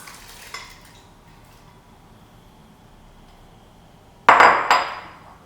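Chopped onion, pepper and tomatoes drop into a metal pot for a Spanish chard and bean stew, a quiet stretch broken by a brief clink early on and a loud clattering tumble of vegetables near the end.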